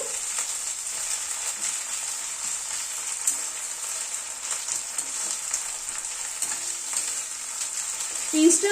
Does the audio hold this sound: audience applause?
no